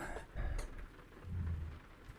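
Rain and thunder in American Truck Simulator: a constant rain hiss with low rolling rumbles of thunder swelling twice, heard close with no speech.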